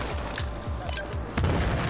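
Grenade blasts and gunfire ring out in Battlefield 4's Kunlun Mountains campaign, a dense run of thudding explosive hits with a heavier boom near the end, loud and close.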